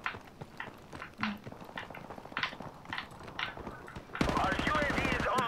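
Gunfire from the shooter game Call of Duty: Modern Warfare Remastered, with scattered single shots and footsteps building to a dense burst of rapid automatic fire near the end, all under a player's talk.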